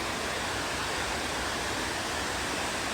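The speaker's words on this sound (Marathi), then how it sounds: "सगळा पाण्याचा वगैरे आवाज येईल तुम्हाला" A loud, constant roar of water rushing at Kamthe Dam in the Konkan fills everything, steady and unbroken like a heavy outflow, with no voices over it.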